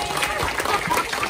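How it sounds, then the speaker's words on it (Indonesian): Applause from a studio audience in an office setting, a dense steady patter of clapping that fills the short moment at moderate loudness. "tepuk tangan dong"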